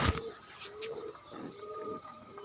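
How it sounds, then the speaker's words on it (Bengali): Pigeons feeding among vegetable plants in a rooftop garden give soft, low, repeated coos, several drawn-out calls spaced across a quiet background. "কবুতরগুলো খাবার খাচ্ছে"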